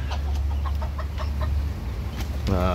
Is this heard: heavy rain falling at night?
no